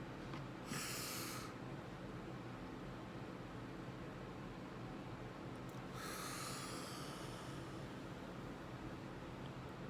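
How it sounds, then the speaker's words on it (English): Two long, deep breaths, one near the start and one around the middle, drawn in and pushed out as slow airy rushes over a steady background hiss during a health awareness breathing exercise, with no talking. "we're going to breathe in and breathe out"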